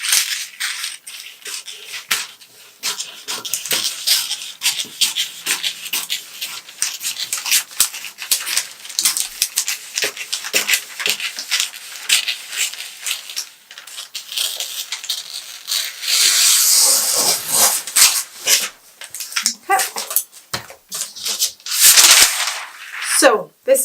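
Scissors cutting through a paper sewing pattern for a Christian Dior Bar Suit, a steady run of close crisp snips and rustling paper with short pauses, louder bursts near the end, no talking.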